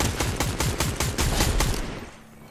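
Rapid automatic gunfire in Fortnite rattles off in a quick burst of a dozen or so loud shots, then cuts off and tails away.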